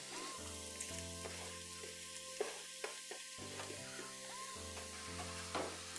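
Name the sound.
onions and green chilies frying in hot oil in a kadai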